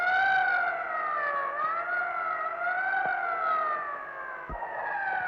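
An ambulance siren during the 1981 coup attempt in Spain, a wailing tone that rises and falls continuously at moderate distance, alone without speech.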